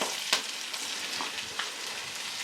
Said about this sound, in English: Now we got 2 stalks of celery and 1 medium yellow onion. We're going to go into the pot.